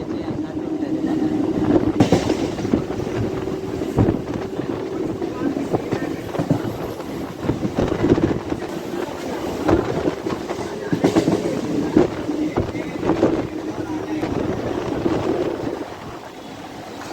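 An MMTS local commuter train rolls on rails between Lingampalli and Ghatkesar in Hyderabad, giving a continuous close rumble with rhythmic clatter and occasional sharper knocks throughout.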